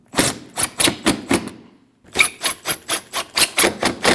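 A tool tightens bolts on the front bumper brackets of a 2014-2023 Jeep Cherokee, giving a fast, steady run of loud rhythmic mechanical clicks close by that pauses briefly and then resumes.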